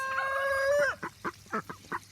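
Welsh Harlequin ducks kept for eggs and meat on a family homestead, a drawn-out nasal honk followed by a run of short quacks, close and fairly loud.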